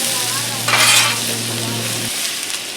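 Onions and peppers sizzle on a Blackstone griddle, a steady close fry with a brief louder scraping burst partway through and a low electrical hum that cuts out near the end.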